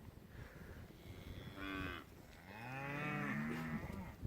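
Weaned beef calves from a spring 2018 group, born the previous fall, moo in several drawn-out, wavering calls, with two longer bawls overlapping near the end against a soft farmyard background.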